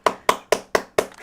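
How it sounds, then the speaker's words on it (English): Five sharp hand claps in a steady, evenly spaced rhythm, close and fairly loud, with no talking. "There's the claps."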